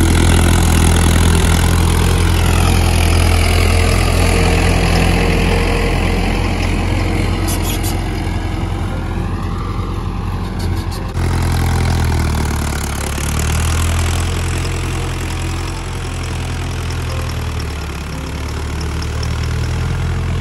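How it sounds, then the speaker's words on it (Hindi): A 57 HP 605 tractor engine idles steadily in a field with loud low rumbling throughout, the tone shifting slightly partway through as the engine note changes, with no talk. "जिहड़ा वीर वाला ट्रैक्टर है ये हैगा 605 जग्गे वाला हैगा 57 HP है"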